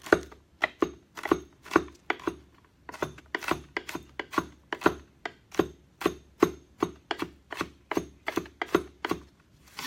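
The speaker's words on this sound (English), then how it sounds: "next is the garlic. And we're going to chop that fine as well." Garlic chopped finely with a knife on a cutting board, a rapid run of crisp, close knocks in short bursts with brief pauses between, clear and alone.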